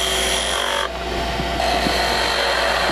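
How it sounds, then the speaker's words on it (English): A skew chisel cuts into spinning wood on a lathe, a steady rasping scrape with a brief dip in the middle before it picks up again, close and alone. "You can also cut somewhat like a toe cut using the skew."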